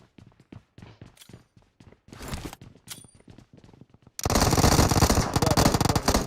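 Gunfire in PUBG Mobile as a player shoots at a bot: scattered single shots and short bursts, then a loud sustained automatic volley over the final two seconds.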